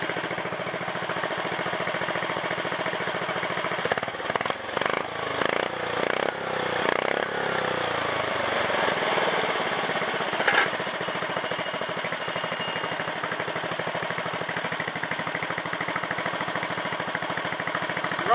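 A go kart engine runs steadily, a close, buzzing idle with a few uneven stumbles and surges partway through before settling back into a constant drone.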